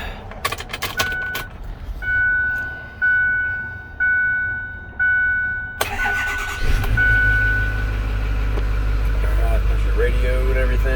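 A 2008 Ford 4x4 bucket truck with a 135 reading: keys jingle, then a tonal chime sounds several times before the starter cranks and the engine fires into a loud, steady close idle.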